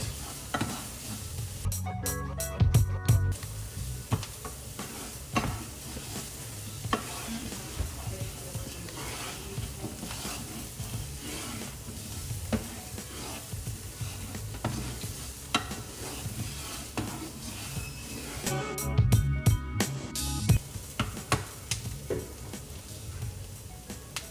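Garlic sizzles in a little oil in a granite non-stick pan, a steady close crackling fry with stirring scrapes and two brief louder clattering bursts.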